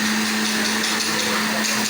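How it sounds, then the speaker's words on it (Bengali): An electric blender runs at a steady high-pitched whine, close and loud, constant for the whole short stretch with no voices over it. "সব ব্লেন্ডার হইতেছে এই জায়গায়।"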